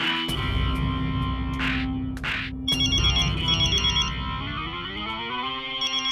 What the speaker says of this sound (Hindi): अरे बाप रे, किसका फोन है?